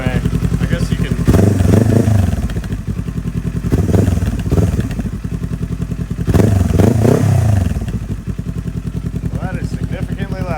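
A Kawasaki Z400 motorcycle with a newly installed aftermarket exhaust is revved hard three times close by, each burst rising and falling over a rumbling idle.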